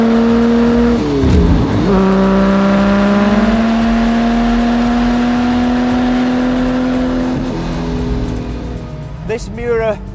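A 1969 Lamborghini Miura P400 sports car accelerates along an empty runway, its engine note climbing through gear changes in a loud, close, sustained roar with rising pitch sweeps, and a voice speaks over it.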